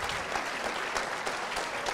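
A live audience at a public basketball talk show claps steadily and loudly throughout, dense applause with no talk over it.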